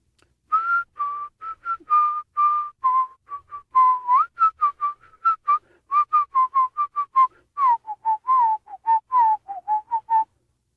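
A person whistles a creepy song, a clear, close run of short, bright notes in a wavering, halting melody that goes on unaccompanied, with no talking.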